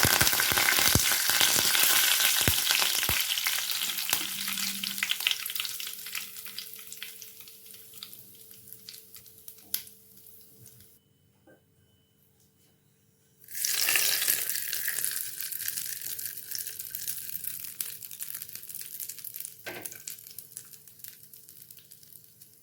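Mustard seeds, urad dal and curry leaves crackle and sizzle in hot oil for a Tamil coriander chutney tempering, loud and dense at first, briefly dropping almost silent, then bursting back into steady close frying.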